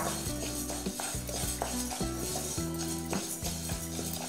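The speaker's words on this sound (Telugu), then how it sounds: "మన డ్రై అయిపోయిన మూకుల్లో ముందుగా పెసరపప్పు వేయిద్దాం." Moong dal dry-roasting in a dry pan for chakkara pongali, stirred with a spoon in quick rhythmic scrapes and clinks against the metal, close and continuous with no talking.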